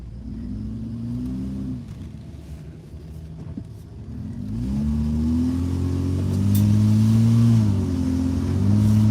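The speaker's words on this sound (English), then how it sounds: "this car, I gotta crawl underneath it and fix the tailpipe again" A car with a damaged tailpipe idles with a rough, throaty rumble, then its engine revs up and holds a louder, rising drone, close by with no voices.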